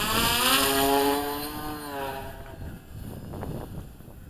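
An ICE-STOL tunnel wing RC model plane takes off outdoors, its electric motor whining loudly as the pitch rises, then fading into wind noise.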